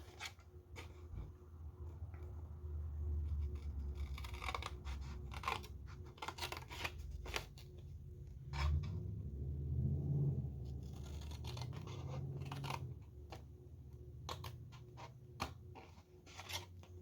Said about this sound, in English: So it's the little square corner that I'm cutting into.